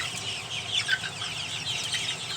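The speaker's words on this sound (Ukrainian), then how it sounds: "Наша курочка теж себе чудово почуває." A hen clucks softly and steadily at close range in a village yard, with low murmuring fowl sounds and no talking.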